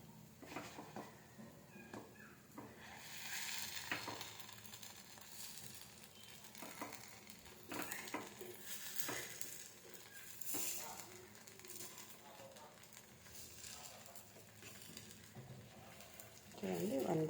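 Gunta ponganalu batter cooks in a paniyaram pan over a low flame, giving a soft continuous sizzle with faint clinks and taps as the pieces are turned, quiet throughout.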